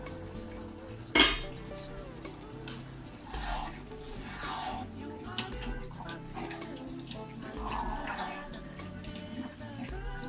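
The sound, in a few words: adding water to rinse the pans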